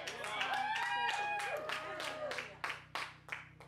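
A preacher's voice is followed by a few loud, separate claps from a worship audience in a tent, spaced out rather than forming sustained applause.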